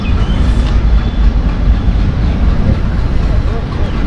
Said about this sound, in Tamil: இந்த ட்ரெயினோட சவுண்டே ஒரு டிஃப்ரெண்டான சவுண்ட் இல்லைங்க.